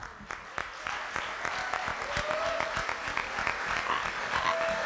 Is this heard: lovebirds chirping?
no